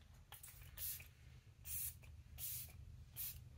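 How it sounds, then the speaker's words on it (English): Sephora makeup setting spray misted in four short bursts, each a soft airy hiss separated by brief pauses, close and fairly quiet against a low background hum. "we're just going to go in with the Sephora Makeup Setting Spray for 16-hour wear"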